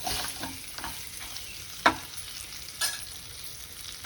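Urad dal sizzles quietly in hot oil as a tempering for a ridge gourd curry, a soft continuous fry broken by a few sharp spoon clinks against the pan.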